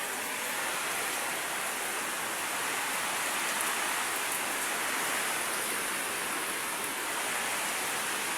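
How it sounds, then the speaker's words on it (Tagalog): Heavy rain pours in a dense, unbroken hiss that stays loud and even throughout, with no voices. "Lakas ng ulan."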